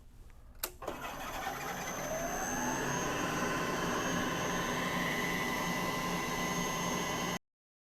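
A machine running at about 1,000 RPM cuts into the rear wheel of a 1914 Studebaker SC-4. It starts with a sharp click, then a loud, steady whirring grind holds close by until it stops abruptly.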